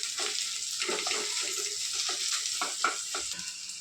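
Onion sautés with homemade spicy Satara coconut-garlic masala in a pan for mutton rassa, a close, steady frying hiss with rapid rhythmic scraping strokes of the spatula and no talking.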